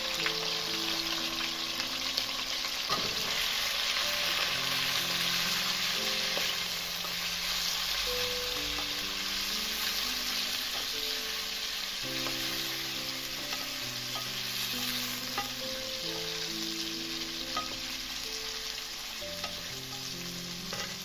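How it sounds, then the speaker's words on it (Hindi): Chicken fries in hot ghee in a pot, a steady, loud, close sizzle running throughout with occasional stirring clinks and scrapes. "प्याज निकालने के बाद उसी घी में मैंने चिकन ऐड कर दिया है और इसको हम थोड़ा सा पकाएंगे 5 मिनट तक।"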